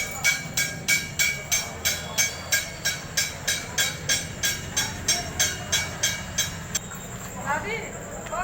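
A train passes close by during the Sawan Monday pilgrimage crowd, its wheels clicking in a steady, rapid rhythm over rail joints. The clatter is loud and even, with crowd noise and voices mixed beneath it.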